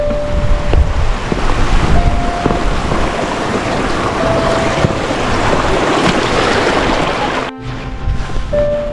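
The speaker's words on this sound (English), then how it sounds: "Very windy." Strong wind roars across a microphone on the summit of Slieve Meelmore at the close of a wild camping hike, a steady, loud broadband buffeting that cuts out briefly near the end before gusting back in.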